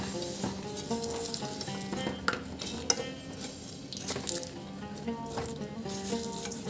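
A ghanti (Khaj Moj) mixture stirred into jaggery syrup in a pan using two spoons, giving continuous close scraping and sticky stirring with scattered metallic clinks and a low background hiss.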